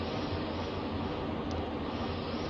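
Steady, smooth jet engine drone of a Cri Cri Jet, a tiny twin-jet aircraft, cruising in a flight simulator, an unbroken even whine and rush with no talking.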